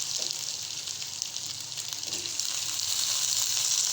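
Potato and cauliflower pieces for aloo gobhi frying in a pan, a steady loud crackling sizzle that runs throughout and grows slightly stronger toward the end, with no voices.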